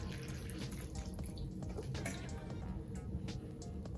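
Water pours into vermiculite in an incubation setup for ball python eggs, a steady close trickle and splash lasting several seconds.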